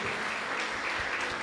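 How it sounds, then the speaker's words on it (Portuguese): Church congregation claps together in a brief, fairly faint wash of many hands, steady and unbroken, heard from a distance. "Dê uma salva de palmas para Jesus"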